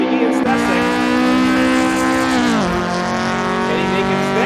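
Toyota AE-86 race cars in a sim racing game at Lime Rock, the engines droning loudly and steadily, with the pitch dropping sharply as one lifts off partway through.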